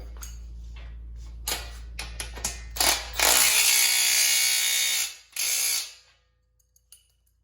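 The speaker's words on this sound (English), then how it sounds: "We'll go through and we'll tighten everything up. This is where your adjustable wrench" An adjustable wrench tightens bolts on a Harbor Freight 2-ton engine hoist. A low hum gives way to clicking metal knocks and then loud, harsh grinding and ratcheting bursts up close, ending in a few faint taps.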